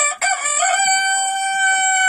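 A rooster crows loudly and close by in a henhouse of laying hens of mixed breeds, one long strained call held for about two seconds, with a brief break at the start.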